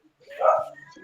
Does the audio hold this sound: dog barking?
yes